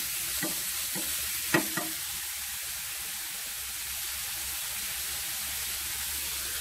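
Aromatics are stir-fried in a wok as soy sauce and wine go in for a honeyed semi-dried oyster dish. A steady loud sizzle and hiss runs throughout, with a few quick stirring scrapes near the start.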